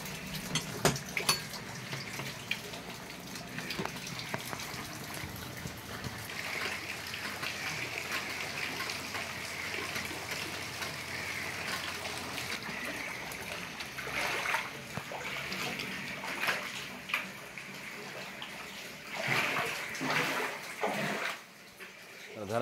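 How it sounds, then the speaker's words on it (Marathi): Floodwater from an overflowing drain pouring into homes in Thane after a night of heavy rain, a steady rushing and trickling flow with splashes, fairly faint and continuous, with voices faintly in the background. "अक्षरशः घरामध्ये पाणी शिरलेलं आहे"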